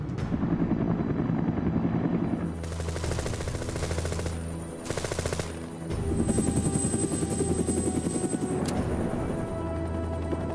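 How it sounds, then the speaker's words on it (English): A Bell UH-1 Huey military helicopter thunders with a steady, loud rotor chop and turbine whine throughout, joined by bursts of rapid machine-gun fire and brief gaps in the roar. "The first time I ever sat in a Huey helicopter and pulled the stick, it was like it fell up."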